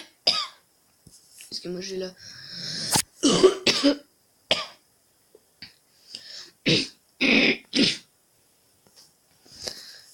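Several sharp coughs and throat-clearing bursts from a man who is a little ill break up his quiet talking during a walk around a village.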